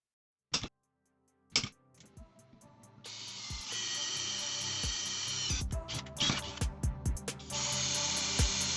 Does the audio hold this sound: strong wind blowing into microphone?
no